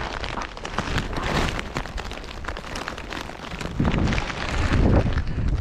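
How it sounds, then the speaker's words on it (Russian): Steady rain and gusting wind batter a frozen lake during winter ice fishing with tip-ups, a continuous rough wash with wind buffeting the microphone that swells louder toward the end. "Дождь идет сейчас."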